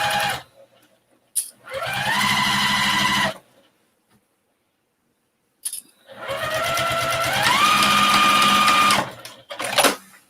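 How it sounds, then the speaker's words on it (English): Sewing machine stitching seams on a fabric shopping bag close to the edge, two bursts of fast motor-driven stitching, the second longer with a rising pitch, separated by silence and a few handling clicks. "I'm trying to sew it as close to the edge as I can"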